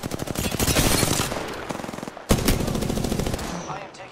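Rapid automatic gunfire in a video game, long continuous bursts of machine-gun shots close and loud, breaking off briefly before another sharp burst resumes the rattling fire.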